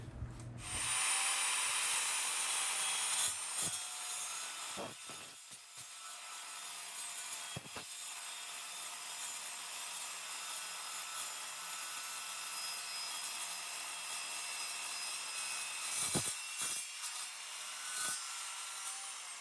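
A harsh, sustained grinding screech of a chop saw cutting through steel runs for most of the clip, with a few sharp clicks and knocks scattered throughout.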